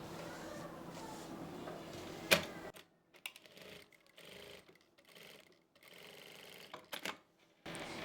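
A sewing machine stitches around a kurti neckline, a steady mechanical run for the first couple of seconds that breaks into short, stop-start bursts of stitching with pauses between them.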